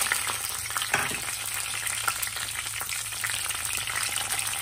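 Mustard seeds, cumin and green chillies fry in hot oil for a mango and coconut pickle, a steady close hiss and sizzle with faint crackling and no voices.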